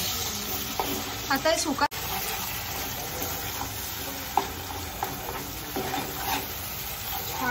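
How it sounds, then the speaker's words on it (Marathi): Ground masala paste fries in hot oil for a Khandeshi chicken masala curry, a steady sizzle with stirring and scraping clinks throughout while people talk over it. "आता तेल गरम झालं आपण त्यात हे वाटण घालू"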